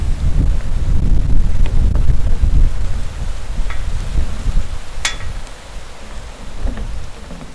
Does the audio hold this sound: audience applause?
no